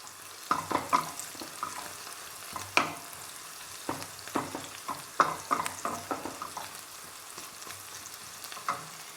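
Brussels sprouts frying in a pan with herbs and ginger: a soft, crackling sizzle broken by frequent light spatters and stirring clicks, fairly quiet with no voices.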